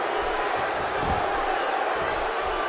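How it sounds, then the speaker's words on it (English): A wrestling arena crowd in WWE 2K16 roars in a continuous, dense wash of cheering throughout. "by the sound of this crowd, I think they're getting what they wanted."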